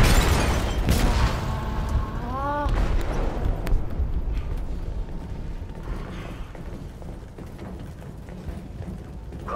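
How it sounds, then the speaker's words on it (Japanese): A loud, rumbling explosion of a bomb in a ship's cargo hold in the game Detroit: Become Human, with heavy low booms and mechanical clatter, fading into a sustained roar; a voice briefly sounds over it. "貨物室で爆弾が爆発しました。"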